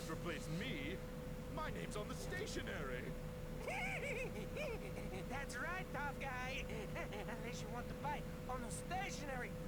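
A loud desktop computer tower sits right beside the microphone, its steady fan whir and hum running continuously beneath someone talking over game audio.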